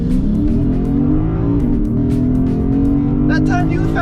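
A Lexus IS 500 and a Ford Mustang V8 launch side by side in a drag race rematch, a loud, sustained, rising engine roar close by, with a brief tire chirp near the end.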